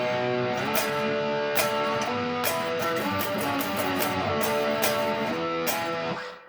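Electric guitar chugging out a heavy main riff, loud distorted power chords in a slow, deliberate rhythm with sharp accented attacks, played alone before fading at the end.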